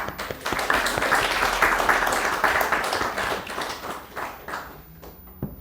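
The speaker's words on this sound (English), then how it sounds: "We should applaud, actually." An audience at a spiritual talk breaks into a dense wash of applause that holds steady for several seconds and then tapers off, with a final isolated clap near the end.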